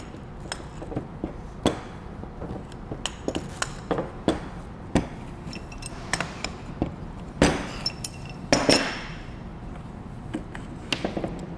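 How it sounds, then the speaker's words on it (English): The burst shield is removed from a Jetstream 40K Tornado water-blasting gun, giving a series of sharp metallic taps, clinks and clatters close by at irregular intervals. "To do that, we're going to remove this shield right here,"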